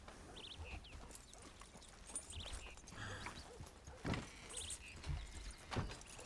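A horse in the Red Dead Redemption 2 video game is led through a doorway: faint hoof clops and thuds at an uneven walking pace over a soft background, with a few louder knocks toward the end.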